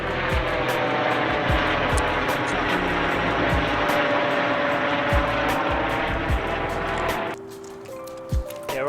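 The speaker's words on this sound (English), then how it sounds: "we're over here by the UC Davis Med Center, so that was their helicopter" A UC Davis Med Center helicopter passing overhead, a loud steady rotor and engine drone with rhythmic thumping that fades sharply near the end, outdoors near the medical center.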